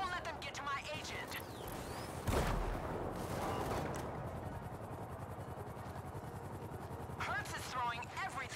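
Helicopters arriving during the Doomsday heist video game mission thump steadily, while a burst of gunfire erupts midway and other combat noise carries on.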